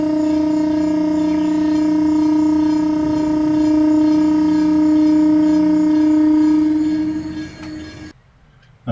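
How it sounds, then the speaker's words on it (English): A drawbridge opening over a waterway with sailboats, giving a loud, steady horn-like tone with strong harmonics that holds for about eight seconds and then cuts off, leaving quiet outdoor ambience. "And that noise you heard was the opening of the bridge there"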